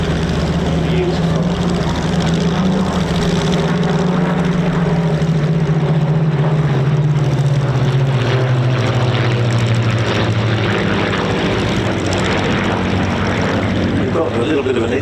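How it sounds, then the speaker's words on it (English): A formation of Spitfire propeller fighters makes a topside pass at an airshow, their loud engine drone steady and sustained with a slowly falling pitch as they sweep past. "Positioning now from the left for top side formation pass."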